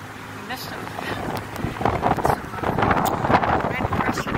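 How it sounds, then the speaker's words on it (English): Gusty wind in Hawaii buffets the microphone with low rumbling bursts that build louder over a few seconds, with voices faintly mixed in. "It's very windy out"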